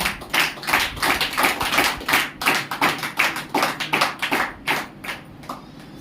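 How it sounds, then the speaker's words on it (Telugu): An audience at a church gathering claps loudly, a dense run of quick, uneven hand claps that swells and thins over several seconds, close and without talking. "గట్టిగా చప్పట్లు కొట్టిన సార్"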